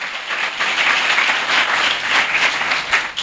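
Church congregation applauding at a Christmas midnight service, a dense, steady wash of many hands clapping together, loud and continuous with no voices over it.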